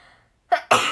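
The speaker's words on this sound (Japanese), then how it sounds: "くしゃみでそう" A woman sneezes once, close and loud, a sharp intake followed by a burst that fades out over a fraction of a second after a short, quieter lead-in.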